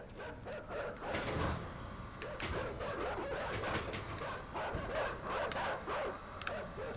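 Several dogs bark in a steady scattered chorus inside the video game Inside, fairly faint and mixed with mechanical creaking, without talk over it.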